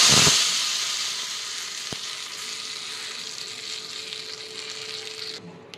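Hot dry red chilli tadka poured onto dal in a zero-oil dal tadka, a loud sudden sizzle at the start that settles into a steady hiss, slowly fading before cutting off.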